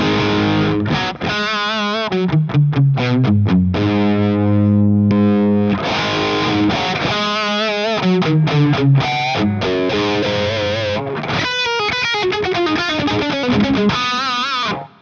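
An electric guitar through an OD1 overdrive pedal plays riffs and sustained chords with a gritty, overdriven tone, loud and continuous with brief pauses between phrases.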